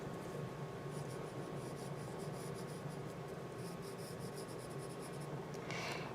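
A pencil moves lightly over paper during a grid drawing exercise, making a soft, continuous scratchy rasp in short repeated strokes, close and quiet against a steady background hum.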